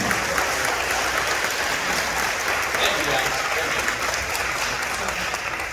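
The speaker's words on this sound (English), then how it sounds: "let's give another round of applause to all the sixth graders in the band program" Audience applauds the sixth grade band students at a middle school band concert, steady dense clapping filling the hall at even loudness throughout.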